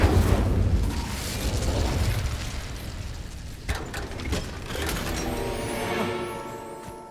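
A Confringo fire-blast spell bursting in Hogwarts Legacy, with a couple of sharp explosive pops amid a dense, rumbling wash of game effects, loud and close throughout.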